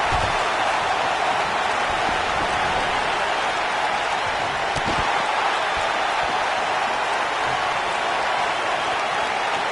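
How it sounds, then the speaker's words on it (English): A large arena crowd in the WWE 2K19 wrestling game roars continuously at an NXT TakeOver Chicago event, a dense, loud, unbroken wall of cheering that holds steady throughout. "I don't remember the last time I heard a more passionate crowd than the one we have here tonight"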